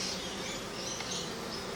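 Honey bees buzz steadily around a backyard hive, a dense, continuous hum without pause.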